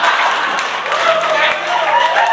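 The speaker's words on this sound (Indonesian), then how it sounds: "Tepuk tangan semuanya untuk Rian Kemasih." A crowd claps and cheers throughout, a dense, steady wash of applause at a comedy roast, with a voice heard over it.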